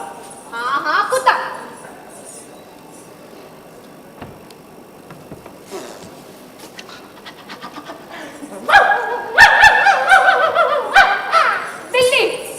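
On a stage during a Hindi theatre play, an actor imitates a dog with short bursts of yelping and panting, one near the start and a louder run toward the end. Other actors talk between the bursts.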